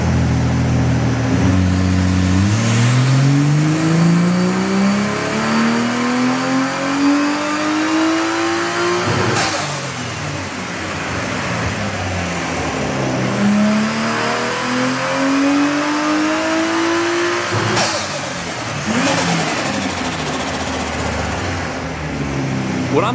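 A BMW E46 running a turbocharged B58 engine on ethanol revs hard, climbing through gears twice in long rising sweeps with sharp shift breaks, loud and close.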